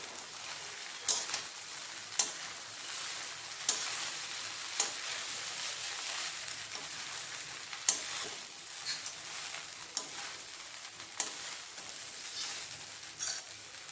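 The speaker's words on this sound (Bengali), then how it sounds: "এবার এগুলিকে দিয়ে একসঙ্গে ভালো করে নাড়িয়ে নেব।" Poha polao ingredients stirred together in a pan, with a steady soft frying sizzle and a spoon or spatula scraping the pan in regular strokes about once a second. The sounds are close and fairly quiet, with no talk.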